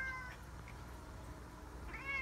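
A pet cat meows indoors, with a couple of fairly faint, drawn-out cries at the start and end over a quiet room background.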